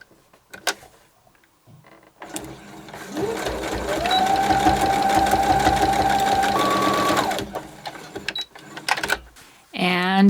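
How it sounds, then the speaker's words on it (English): Close and loud, a sewing machine runs one sustained burst as it sews a half-inch seam on a clear zippered bag, with a speaking voice and handling clicks before and after. "sew a good solid 1/2 inch seam on each end"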